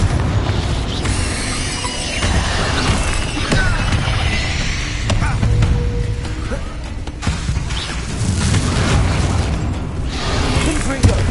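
Confringo fire spell explosions in the Hogwarts Legacy game, loud continuous booming and crashing blasts that dense combat noise keeps full, with a voice calling out over them.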